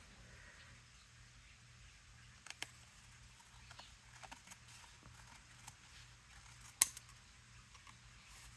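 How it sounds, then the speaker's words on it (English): Scissors cut a piece of card down to card size with quiet, irregular snips and rustles, one sharper clip standing out near the end, all faint against a low background hum. "I'm going to try to cut it for the card size."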